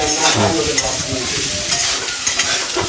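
Potatoes with ground spices and Kashmiri chili powder are stirred in a frying pan, a loud close sizzle with steady scraping and occasional clacks of the spoon against the pan.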